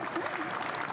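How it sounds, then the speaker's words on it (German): Applause from an audience at the Burning Brush Award miniature-painting ceremony, a brief dense burst of clapping with a voice speaking over it. "Also einen großen Applaus noch einmal."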